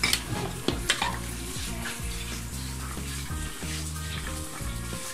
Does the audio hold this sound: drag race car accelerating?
no